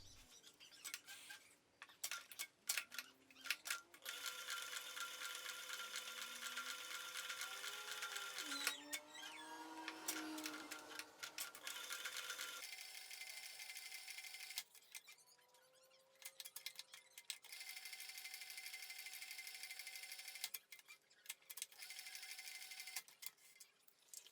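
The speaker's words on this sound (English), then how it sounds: "Using my Cowboy 3200 with size 138 thread, I stitch around the patch window." A Cowboy 3200 industrial sewing machine runs size 138 thread through leather for a fire helmet shield, giving a steady mechanical whirr in long runs broken by brief pauses and ticking clicks.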